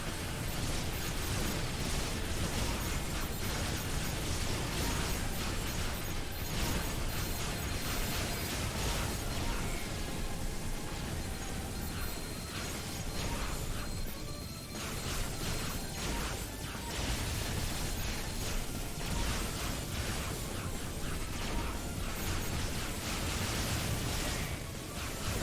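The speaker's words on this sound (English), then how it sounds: "we can hit them with the homing missiles" Homing missiles slamming into a multi-part boss in a video game, a constant wash of crackling explosions and bursts layered over rumbling noise that goes on without pause, fairly soft overall, with no one talking.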